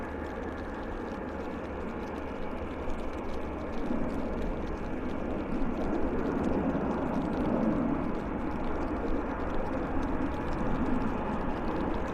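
WestJet airliner taxiing at Vancouver Airport, a steady broad engine rumble and whine that holds fairly even throughout, heard from a distance with no voices.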